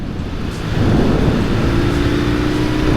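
A 1973 BMW 60/5 airhead motorcycle runs at full throttle in third gear, a steady engine drone rising in strength. Heavy wind rush from riding speed sits over it.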